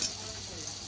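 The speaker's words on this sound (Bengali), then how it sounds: "দিয়ে দিলাম মাছটা" Marinated Bombay duck fish goes into onions already frying in a pan, giving a brief, steady hiss and sizzle that stays fairly close and even throughout, with no one talking.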